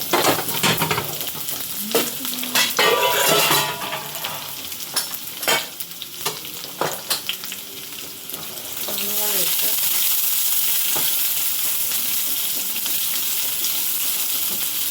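Onions sizzle in hot oil with popped mustard seeds while a spoon scrapes and stirs the pan, brief voices underneath, then a louder, steady frying hiss fills the second half.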